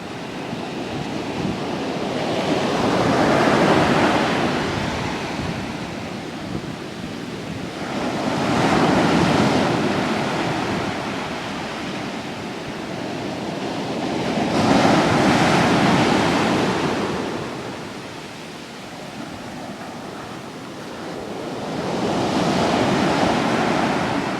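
Storm waves crash against the shore and sea wall at Claycastle, Youghal, County Cork, Ireland, swelling and surging in repeated roaring bursts several seconds apart under heavy wind buffeting the microphone.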